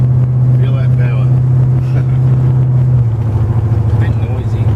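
A restored 1969 Ford Falcon XW drones loudly from the cabin while driving, a strong low steady engine hum that drops in pitch partway through, with people speaking over it.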